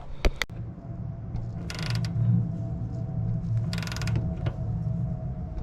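Ratchet tightening the sway bar end link bolts and bushing nut on a Land Cruiser 100 / LX470, with two bursts of clicking ratchet strokes over a low steady rumble and a few sharp metallic knocks.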